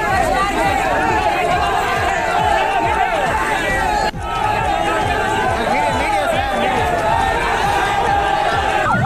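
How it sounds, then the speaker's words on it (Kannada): Hundreds of fans cheering near Kiragandur gate at a welcome rally, a loud continuous roar of crowd noise with shouts and chatter, steady throughout with no pauses. "ಕಿರಗಂದೂರು ಗೇಟ್ ಬಳಿ ನೂರಾರು ಅಭಿಮಾನಿಗಳ ಹರ್ಷೋದ್ಗಾರ ಮುಗಿಲು ಮುಟ್ಟಿತು"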